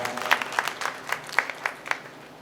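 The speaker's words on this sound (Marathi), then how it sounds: "सगळ्यांसाठी एकदा जोरात टाळ्या होऊ द्या" A small audience at a ghazal poetry evening claps for the poets, a thin scattered patter with distinct individual claps, fairly close and brief.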